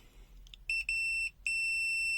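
A BSIDE U1 mini clamp smart multimeter in diode/continuity test mode gives a few short, high electronic beeps. These settle into a steady sustained tone, close and clear with no talking.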